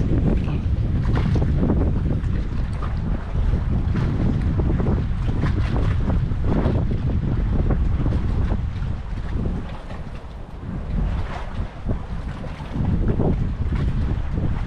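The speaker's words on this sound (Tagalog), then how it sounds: "Hangin lang guys." Strong wind buffets and roars across the microphone without a break while fishing, a heavy rushing noise with gusts rising and falling and no voices.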